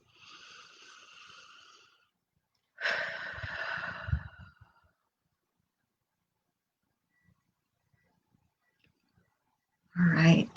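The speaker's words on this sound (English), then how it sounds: "Couple deep breaths." Deep breaths come close and clear, two long airy exhales separated by a pause, followed by a brief louder breath near the end, with no talking.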